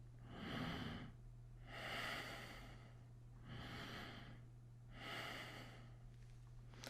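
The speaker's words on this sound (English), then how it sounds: "this is basically the diaphragmatic breathing" Four slow, loose diaphragmatic breaths follow one another at an even pace, each a soft airy rush, close and quiet over a low steady hum, demonstrated during a singing-technique lesson.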